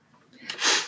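A single sharp sneeze bursts out after a brief intake of breath, close and loud.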